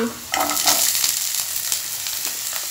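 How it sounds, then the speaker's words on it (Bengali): Diced potato cubes hit a hot pan with softened onions, a loud steady frying sizzle with brief stirring scrapes, close and continuous with no voices. "এখন এই আলুগুলোকে আমি ভেজে নিব"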